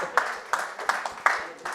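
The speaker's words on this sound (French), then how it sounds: "Bravo, on peut applaudir." A small audience claps briefly at a cultural heritage round-table after a song, a short patter of a few hands sounding thin and somewhat distant.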